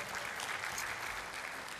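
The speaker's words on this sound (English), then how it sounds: "Give a big round of applause to our chapter." Steady, fairly quiet applause from an audience at a chartered accountants' chapter seminar in Dubai, a dense even wash of clapping with no pauses.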